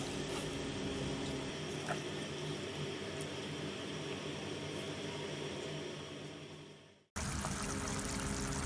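Water pours steadily into a pot of garlic kulambu made with tamarind water, a continuous soft trickling stream heard up close for several seconds before it briefly cuts off, then resumes.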